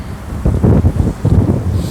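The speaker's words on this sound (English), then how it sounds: "as it starts to get windy" Gusty wind outdoors on a duck hunt buffets the microphone, producing low rumbling pulses that rise and fall in loudness with no voices.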